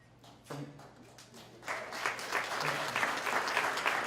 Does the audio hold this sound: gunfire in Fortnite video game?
no